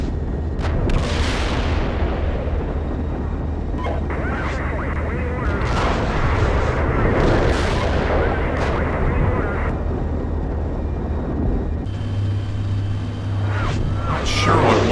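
Tank cannon fire and armored vehicle rumble in the Steel Beasts tank simulator, a few heavy booms over a constant engine drone, with radio-style voices talking over it.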